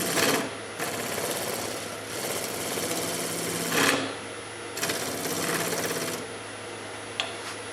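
A power sander works a dehydrated persimmon wood bowl in loud, buzzing runs of a few seconds each, with short pauses between them, heard close and alone.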